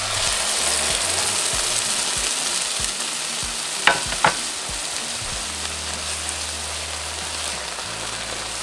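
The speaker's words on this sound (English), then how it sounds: "once our onions are ready, we're going to add in our pinto beans" Onions and pinto beans fry in a pan with a steady, bright sizzle, broken by a couple of sharp clinks of a utensil stirring near the middle.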